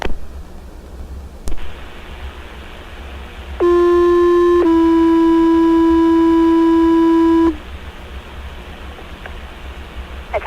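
Fire department radio pager alert for a carbon monoxide alarm call, two long steady tones played back to back over radio static, loud and unbroken, with faint clicks before and after.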